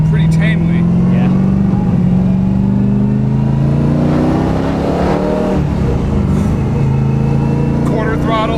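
A BMW E36 M3 fitted with a 660 hp 7.1-litre LS2 V8 accelerates at quarter throttle, its deep loud engine rumble rising steadily from inside the car while people talk over it.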